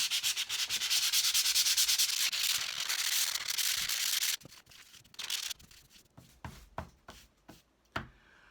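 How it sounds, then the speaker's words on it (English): Sandpaper rubs gently over a lino block being prepared for a reduction linocut, giving a steady close scratching at first, then short separate strokes with pauses between them. "So I'm just going to rub over the lino really gently with some sandpaper."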